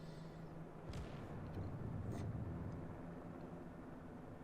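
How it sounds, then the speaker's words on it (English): Aircraft engines drone steadily in a World of Warships naval battle as torpedo bombers launched against a tier 6 American carrier approach, with a rising whoosh and dull booms of anti-aircraft fire over continuous low rumble. "And here comes the torpedo bombers inbound."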